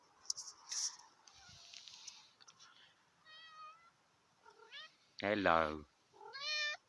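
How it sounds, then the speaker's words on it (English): A pet tabby cat named Tabitha gives several short meows, with one louder drawn-out cry near the end, close by and mixed with brief casual talk from a person greeting her. "It's the cat."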